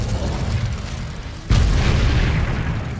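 An Incendio fire spell cast in Hogwarts Legacy: a loud, sudden whooshing burst at the midpoint that rises over a steady rumbling game background and keeps roaring to the end.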